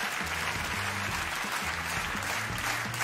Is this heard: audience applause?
yes